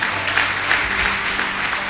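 Steady applause from a group, dense patter of clapping filling the two seconds at an even, moderate level.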